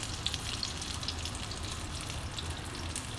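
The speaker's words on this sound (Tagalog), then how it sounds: "Guys, ready to fry. Yummy. Ayan, frying eggplant." Eggplant frying in a pan gives a steady, fairly soft hiss of sizzling oil that runs evenly without breaks.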